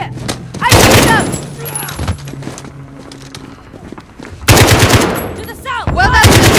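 Gunfire in Call of Duty: Modern Warfare, with two loud close bursts of rapid automatic fire separated by scattered single shots, footsteps and shouting voices in the middle.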